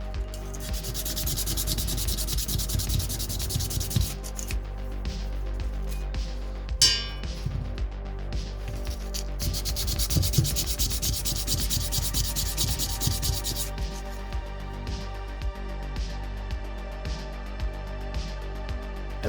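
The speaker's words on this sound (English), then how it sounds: "Ordinarily, I don't bother filing the runners, but these are particularly sharp, so I will." Steady rasping file strokes work the sharp runners on a Cyma G36C airsoft gun, a continuous close scraping that pauses briefly and then resumes with occasional light metallic clinks.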